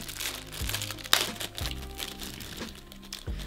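Plastic overpackaging crinkles close and fairly quietly as it is unwrapped while a parcel of dolls is unboxed. Short crackling rustles come in uneven bursts.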